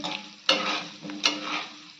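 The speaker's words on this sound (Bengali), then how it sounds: "দেখুন আমার এখানে লাল লাল করে আলুটা ভাজা হয়ে গিয়েছে।" Potato pieces frying to a reddish brown in white oil in a kadai, seasoned with turmeric and salt: a steady close sizzle broken by two sharp stirring scrapes.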